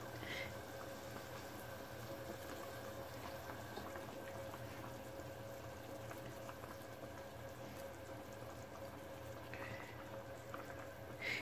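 Minced-meat balls simmer in sauce for a tajine of meatball fritters, giving a faint, continuous low bubbling and hiss that stays even for the whole stretch, with no voices.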